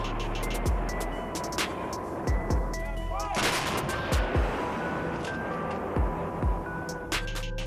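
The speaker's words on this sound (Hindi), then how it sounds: "भारतीय बोफोर्स तोपों की गोलाबारी से पाकिस्तान की रीढ़ टूट गई।" Bofors artillery guns firing during the Kargil War, several heavy booming shots spread through the stretch over dense, continuous rumbling background noise.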